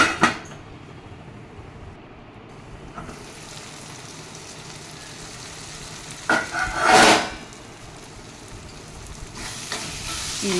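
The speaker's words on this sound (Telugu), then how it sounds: "ఒక్క ఐదు నిమిషాలు మూత పెడదామండి ఉల్లిపాయలు చక్కగా మగ్గుతాయి" Sliced onions in a covered pan for a drumstick fry, sizzling in a steady low hiss, with a brief louder crackle burst near the end as the lid or contents are disturbed; no talking.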